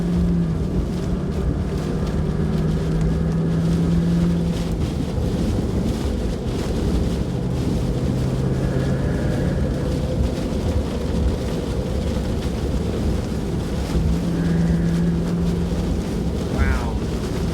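Strong, steady storm wind from a gust front roaring at around 60 miles an hour, loud and continuous, buffeting the microphone throughout with a low rumbling undertone and no pauses.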